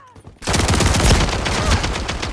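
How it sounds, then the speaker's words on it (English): Sustained automatic gunfire in a shooter video game, a dense, loud stream of rapid shots starting abruptly and continuing without pause. "I'm taking fire."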